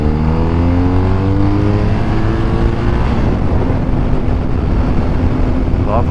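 A BMW R1250RS motorcycle engine pulls hard in second gear at about 30 mph, its loud droning note rising steadily over heavy wind rush throughout.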